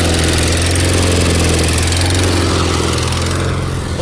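The engine on a Miller Legend welder runs at full throttle, giving a steady, loud, close drone with a strong low hum and even vibration throughout, with no voices.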